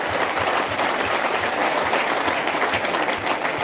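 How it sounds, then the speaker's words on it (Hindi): A crowd claps steadily for a Meena folk artist at a Rajasthani culture gathering, dense even applause running throughout without a break. "मैं बा मीणा कलाकार खातर तालियां बजाना चाहूंगा"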